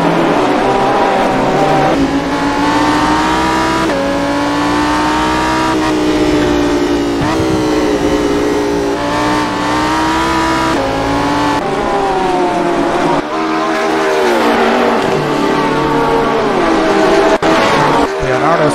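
GT race cars, including a number 35 Lamborghini and a number 69 Porsche, racing at VIRginia International Raceway, loud engines revving and shifting through gears continuously while a commentator talks over them.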